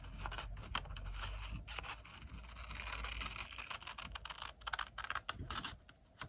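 Scissors cut a curve into paper for a gift card envelope, making a long run of quick, dry, crackly snips and rustles close up, quieter and more scattered toward the end, with no talking.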